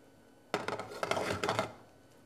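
Raw all-beef meatballs land in a pan of hot olive oil a few at a time, giving a burst of close sizzling and clattering contact sounds for about a second before settling to a low hiss.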